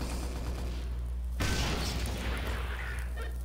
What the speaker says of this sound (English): I think I made something explode.